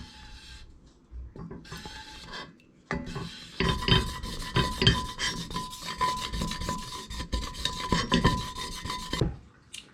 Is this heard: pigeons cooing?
no